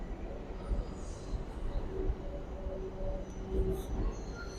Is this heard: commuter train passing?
yes